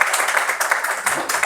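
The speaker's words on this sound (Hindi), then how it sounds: "तालियां" Audience applause at a chiropractic training institute's closing ceremony, a brief burst of dense clapping from a crowd, fairly loud and close.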